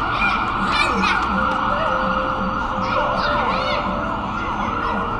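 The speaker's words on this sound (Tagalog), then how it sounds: "May ambulansya." An ambulance siren wails steadily amid busy street traffic, its rising and falling tone carrying over the background hum and distant voices.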